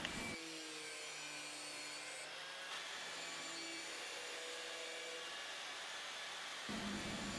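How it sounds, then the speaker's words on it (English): Angle grinder run in long, smooth strokes along a knife blade, a steady loud whirring grind with a continuous tone throughout and no talk. "you can take the angle grinder and keep it at sort of belt level and make these nice long smooth strokes with the face of the angle grinder"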